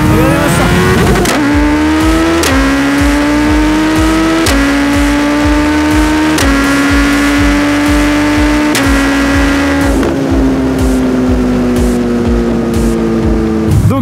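Suzuki Hayabusa motorcycle on the autobahn, engine howling loud and close as it pulls hard through gears, pitch climbing then dropping at each of several quick shifts, with continuous wind roar underneath.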